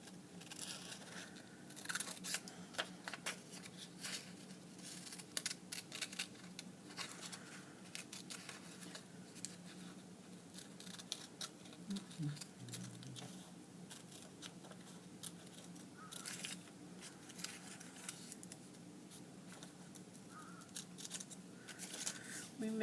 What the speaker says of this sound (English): I cut right on the line